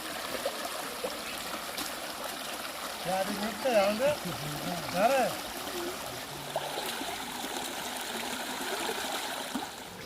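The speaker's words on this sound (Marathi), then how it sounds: "सगळं पाणी असं झाडांमधनं वाहत आहे" Steady flowing water of a stream runs throughout, with a few faint birdlike chirps and soft background noise over it.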